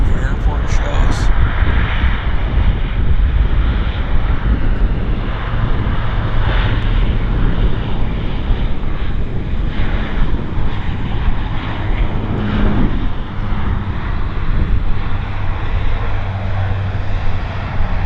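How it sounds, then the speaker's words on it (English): A Boeing airliner taxis at Vancouver YVR airport, its engines a steady, broad roar that holds at a constant level throughout, with a low drone underneath and a voice talking over it. "Taxing out, and we got another Boeing turning onto the active"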